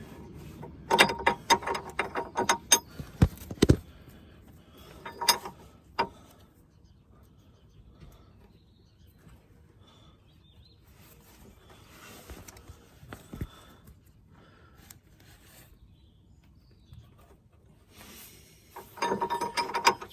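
A 24mm locking ring spanner ratchets on a track rod end nut of an Iveco Daily, with bursts of rapid metallic clicking and clinks early and late, separated by quieter stretches of faint workshop noise.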